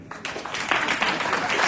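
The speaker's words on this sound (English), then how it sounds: "can you give a shout and a loud hand of applause for Mrs. Stella Asare?" Audience applause at a community gathering in Columbus, Ohio swells from quiet into a steady, dense wash of clapping over a couple of seconds.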